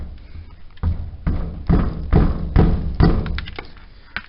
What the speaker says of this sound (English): Maybe a little sledgehammer.